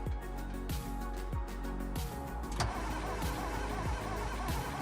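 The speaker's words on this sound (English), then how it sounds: "sorry for the long starter sounds" Repeated engine starter cranking from a car in a driving video game, a steady run of loud whirring cycles that keep turning over without catching, each cycle beginning with a sharp drop.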